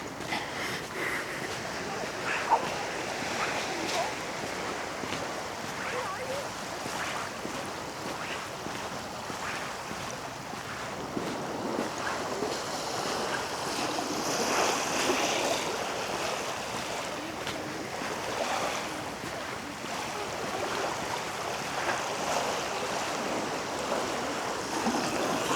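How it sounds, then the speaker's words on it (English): Gentle sea waves wash onto a quiet beach on the Scottish coast at Irvine, a soft, continuous hiss of surf with light wind noise. "It's just relaxing sounds of the gentle waves."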